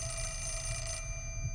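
A phone in the video game Fatal Frame 4 gives off a continuous, fairly faint electronic ring over a low background hum, with no one talking.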